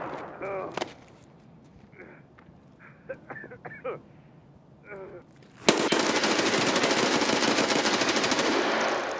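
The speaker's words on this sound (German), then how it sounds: "Er wird von draußen beschossen." Gunfire in the shooter game Escape From Tarkov on the Ground Zero map: scattered single shots and short bursts under quiet talk, then a loud sustained automatic burst that runs to the end.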